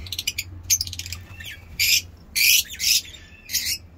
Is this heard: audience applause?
no